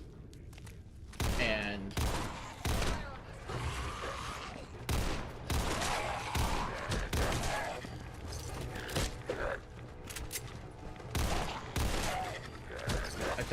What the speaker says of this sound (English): I took one of the machine guns